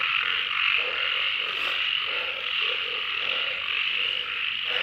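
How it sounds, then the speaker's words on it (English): Frogs croak loudly and continuously on a mountainside at night, a dense chorus of repeated croaks pulsing in a steady rhythm over a constant high insect-like drone, with no voices. "the frogs are going nuts."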